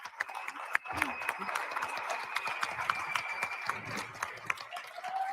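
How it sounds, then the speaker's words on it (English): An audience claps in a crowded hall after a presentation at a Volt Europa general assembly, with a steady dense patter of many hands and brief loud spikes throughout. "you can keep clapping for 10 minutes"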